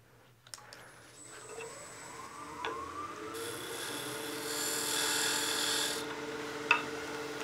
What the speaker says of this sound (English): So just remove a little bit of material past that burnish point.